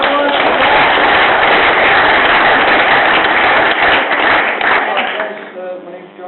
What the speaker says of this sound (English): Give a nice round of applause for Jack.